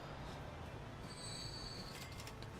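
Trains roll through a busy station in the Transport Fever video game, with a continuous rumble under a high, thin wheel squeal that rises partway through.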